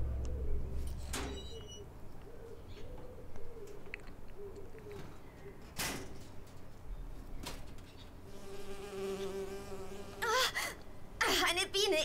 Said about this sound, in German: Oh, eine Biene. Ich hasse diese Viecher.